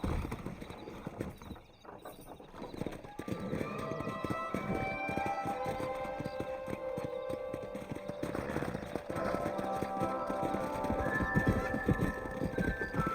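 Horses gallop and neigh in Red Dead Redemption, hooves pounding in a rapid rolling rhythm with whinnies rising over it, close and loud through most of the stretch, with a brief voice early on.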